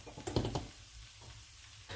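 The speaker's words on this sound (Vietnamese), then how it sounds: "Bên chảo này là Phát đang làm thịt ba chỉ xào mắm ruốc đó các bạn." Pork belly stir-frying with shrimp paste in a pan sizzles steadily, with a few louder scraping stirs near the start and then a continuous crackling fry.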